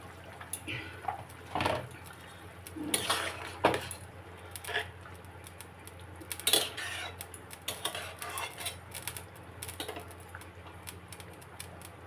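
Fried fish pieces dropped into a simmering eggplant and potato curry in a cooking pot, with several sharp clinks of a utensil against metal and soft splashes spread unevenly through the clip, close and fairly quiet.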